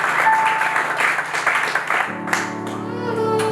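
A church congregation applauds, steady clapping filling the room while an organ or keyboard sustains chords underneath, with no one speaking.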